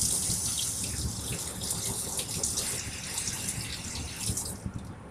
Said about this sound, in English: So then I'm just going to go rinse the ruler off